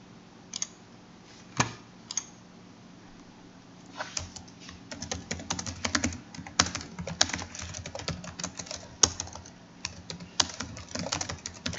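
Keys on a computer keyboard are typed in quiet, irregular clicks close by, sparse at first and then quickening into rapid bursts, with no talking.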